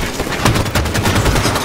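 Rapid automatic gunfire in a Halo 5 Firefight battle on March on Stormbreak, a loud, close burst of repeated shots with punchy low thumps across the short stretch.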